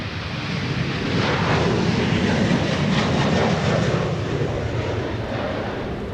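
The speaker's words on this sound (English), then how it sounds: "we got another Sun Country departure" A Sun Country airliner departs MSP airport in Minneapolis–St. Paul, a broad steady jet roar that swells and holds loudly throughout, with no voices over it.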